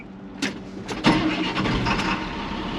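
A 2000 Ford F150 4x4 with the 5.4 engine cranks briefly and catches partway through, then settles into a steady, close idle with no talking.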